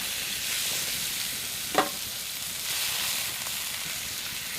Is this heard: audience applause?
no